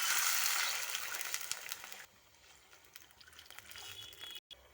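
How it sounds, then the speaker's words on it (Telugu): Loud sizzling hiss of a tempering that drops suddenly partway as water hits the hot pan, followed by quieter bubbling and a brief cut near the end. "దీనిలోకి ఇప్పుడు వాటర్ వేసేస్తుంది"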